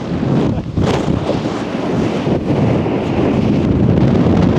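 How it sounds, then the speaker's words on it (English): Strong wind gusts buffet the microphone on top of a sand dune hill in Colorado's Great Sand Dunes, a loud, continuous roaring rush with no voices. "it's almost blowing us completely down"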